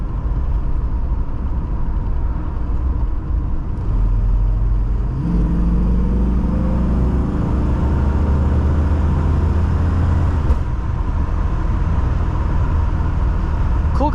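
A 1970 Mercedes-Benz 300SEL 6.3 engine revs while driving, rising through gears with a strong low drone and climbing pitch sweeps, loud and close.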